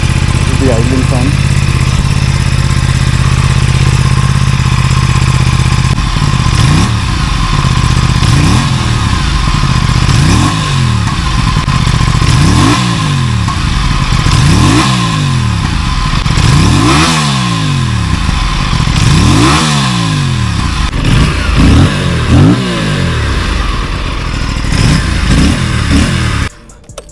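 An Aprilia RS457 parallel-twin motorcycle engine idles close by, then is revved repeatedly, about ten sharp rising and falling blips in a steady rhythm, loud and near, before cutting off.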